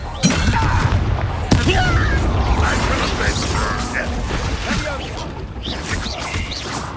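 A Confringo blasting spell in the video game Hogwarts Legacy hits with a single sharp, explosive crack early on, amid busy combat clatter, whooshes and mechanical creaks that continue throughout.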